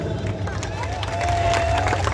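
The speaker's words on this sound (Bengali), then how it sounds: "মেঘলার জন্য চাই করতালি" Crowd at an outdoor Lalon folk song performance during a 2024 college-ground book fair claps and cheers, a steady mass of applause and voices building slightly louder toward the end.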